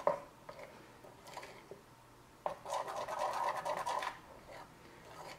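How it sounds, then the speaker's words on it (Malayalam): Sweet batter for thaen mittai is mixed with a few pinches of baking powder, giving soft scraping and squishing strokes, with one denser stirring burst in the middle. "ഇത് ഞാൻ നന്നായിട്ടൊന്ന് മിക്സ് ചെയ്തെടുക്കാം."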